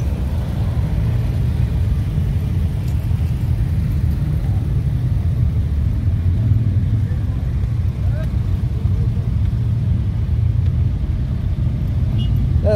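Road traffic on the approach to the Northwest 200 motorbike road racing circuit, a steady close engine rumble and low whir continuing without a break, with faint passing vehicle sounds.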